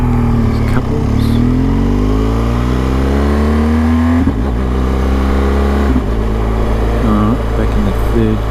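A car engine revs up through the gears on Mirboo North-Trafalgar Road, pitch rising steadily then dropping at each change, loud and close from inside the cabin, with someone talking over it.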